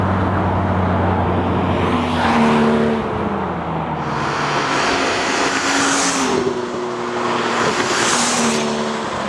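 A BMW Alpina B7S Turbo with 333 horsepower drives hard, its engine rising and falling through repeated pulls and gear changes. The turbo whoosh and revving come through loud and clear throughout.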